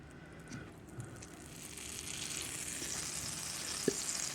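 Cabbage fritters fry in a buttered pan, a faint, steady hiss that gradually grows louder, with a couple of small clicks and a sharp tap near the end.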